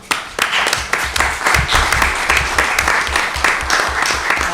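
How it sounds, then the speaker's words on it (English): Dense applause from the audience at a New Milford town council meeting, a loud close burst of many hands clapping that runs steadily throughout. "there are a lot of people that were not on this committee that really deserve a round of applause"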